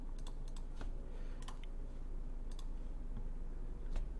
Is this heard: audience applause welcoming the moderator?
no